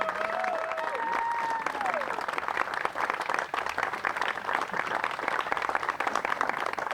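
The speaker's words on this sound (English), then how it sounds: "give them a round of applause for the work that they put in" A crowd applauds at an outdoor ribbon cutting ceremony for the Davis Avenue Bridge, steady loud clapping with scattered cheers and a voice briefly over the start, continuing strongly to the end.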